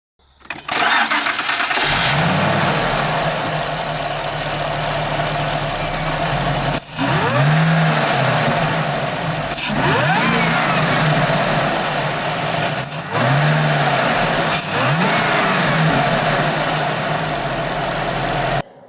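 A Ford Falcon XR8 Sprint V8 with a transient overboost function cranks and fires up, then settles into a rumbling idle broken by several sharp blips of the throttle, loud and close with no talking.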